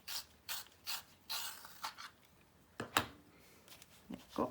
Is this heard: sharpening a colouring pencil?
yes